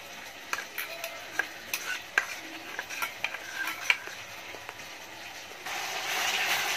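A spoon stirring ground chili, cumin, coriander and Kashmiri chili powder mixed with a little water, light scraping clinks at an uneven pace over a faint sizzle of oil in the background.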